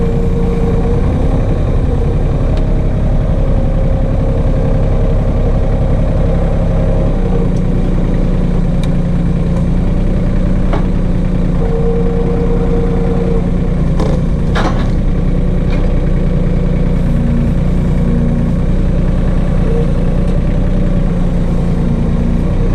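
A New Holland Workmaster 25 tractor creeping along in its slowest gear in the woods, its engine a steady, loud, low diesel drone with a few faint clanks over it.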